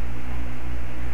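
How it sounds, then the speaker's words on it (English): A steady whooshing drone of an electric fan running close by, constant and even throughout with a faint low hum underneath. "sorry about the fan, but you only have to hear that for a sec"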